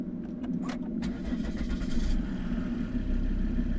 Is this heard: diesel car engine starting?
yes